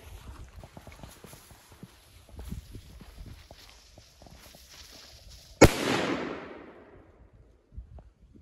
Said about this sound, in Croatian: Uzet ćemo Titano i Armageddon petardu.